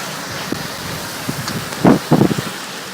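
Severe storm with wind gusts of 70 to 80 miles per hour and blinding rain, heard as a constant roar of wind on the microphone with a few louder buffeting bursts near the end, with no talking.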